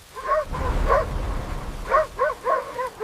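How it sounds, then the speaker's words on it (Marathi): A dog barks several times in short bursts, a few yelps spaced out then a quicker cluster near the end, close and fairly loud. "जोरात भुंकायला लागला"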